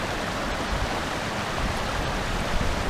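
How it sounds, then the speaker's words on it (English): A creek runs steadily nearby, a dense, even rushing and gurgling of water that holds at the same level throughout with no other sounds. "so you can hear, you know, the creek running"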